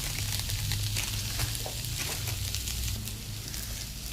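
Semolina frying with carrots in a pan, a soft continuous sizzle with faint stirring scrapes, fairly quiet and alone.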